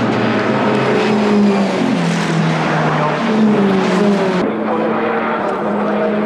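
Sports 2000 race cars from the 1998 SRCC pilot series roar around a track, several engines droning and shifting pitch together as they pass, loud and continuous throughout.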